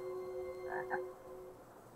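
A toad croaks in the video game Lost in Play, two quick low croaks close together, near and fairly quiet over a soft steady game music drone.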